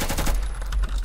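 Loud close gunfire in the Roblox shooter Phantom Forces, a rapid cluster of shots that fades quickly.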